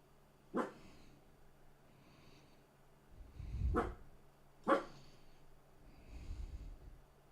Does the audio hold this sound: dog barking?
yes